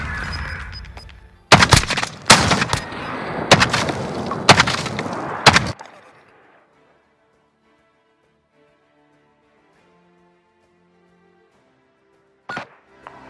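Gunfire in the shooter video game Call of Duty Modern Warfare: a burst of several loud, sharp shots in quick irregular succession over about four seconds, then near silence, ending with one more brief crack.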